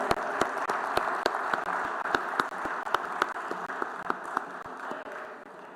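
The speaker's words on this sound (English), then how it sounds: "let us thank him with a huge round of applause" Conference audience at a life sciences event gives a big, steady round of applause, dense and sustained throughout with distinct sharp claps standing out, no talking over it.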